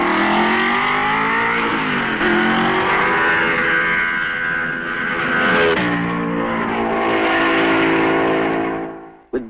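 Mercedes and Ferrari Grand Prix cars of 1955 roar past at the Belgian Grand Prix, loud high-revving engines sweeping by one after another with falling pitch, close and dominant, ending in a sudden cut.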